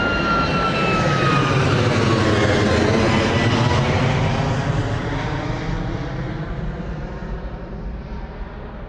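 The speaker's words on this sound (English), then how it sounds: "This Malta Air doing a derated departure as well." A Malta Air Boeing 737 makes a derated takeoff at Bristol Airport, its jet engines a loud, continuous broadband roar that holds steady and then eases slightly as the aircraft pulls away.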